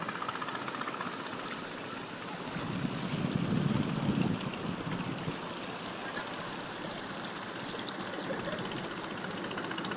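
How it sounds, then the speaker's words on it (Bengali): Strong river current at a riverside ghat near a border, rushing steadily with a broad, continuous roar and wind buffeting the microphone, swelling briefly louder midway through. "এই যে দেখেন কি পরিমাণ পানির স্রোত"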